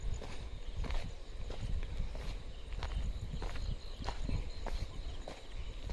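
Footsteps crunch through a forest in a steady walking rhythm, close and moderately loud, over a noisy outdoor background while a langur alarm call warns of a nearby leopard.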